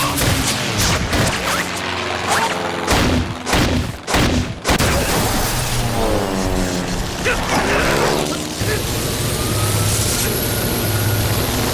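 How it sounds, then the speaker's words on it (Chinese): A stricken plane roars out of control in a wartime action drama, its engine whine sweeping and wavering after a burst of sharp explosive bangs, then settling into a loud, steady drone with no voices. "飞机失控了"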